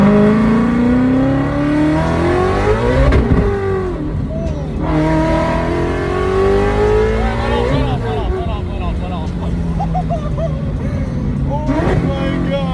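A 900 whp car accelerating hard, heard from inside during a ride-along: a loud, sustained engine roar with rising pitch through gear changes and shifts, while people shout and talk over it.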